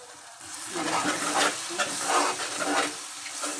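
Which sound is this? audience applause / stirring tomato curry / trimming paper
stirring tomato curry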